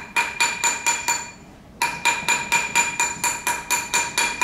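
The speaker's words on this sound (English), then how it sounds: "we're gonna put it on the mandrel. We're gonna take the rawhide." A rawhide mallet taps a gold ring on a steel mandrel in quick, even bursts of bright, ringing metallic strikes, with a short pause before the steady rhythm resumes.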